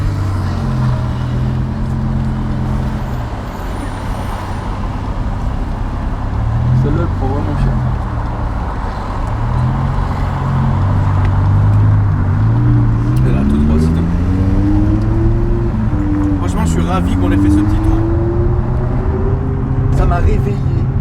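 BMW M5 with a V10 engine idling and revving after a cold start, a steady low rumble with rising and falling rev sweeps, running under conversation between people nearby.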